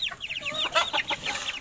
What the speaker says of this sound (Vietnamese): Thế mình ra đây mình cho gà con ăn này